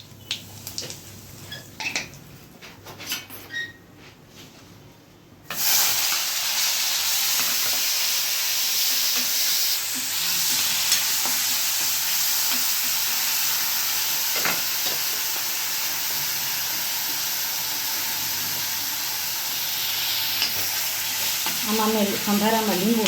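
Chillies and tindora hit hot oil for a Gujarati sambharo, and a loud, steady sizzle bursts in suddenly after quiet kitchen clatter and keeps hissing, with occasional stirring, to the end.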